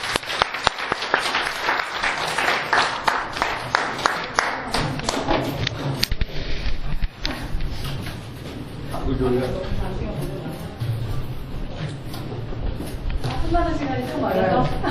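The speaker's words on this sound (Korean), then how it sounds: "큰 격려의 박수 부탁드리겠습니다" Sharp, crisp hand claps ring out in a hall after a Suwon mayoral candidates' debate, loud at first then thinning out, giving way to people chatting nearby.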